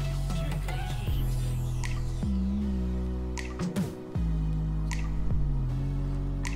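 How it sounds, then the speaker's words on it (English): A crunchwrap pressed down in a hot buttered pan gives a steady loud sizzle with rising and falling hums, crackles and squishy pops. "Push down, not too much. Get some butter dripping out of there."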